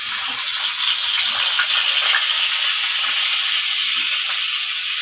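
Rui fish fries in hot oil in a wok with a loud, unbroken hiss of sizzling that stays level from start to finish, close and without speech.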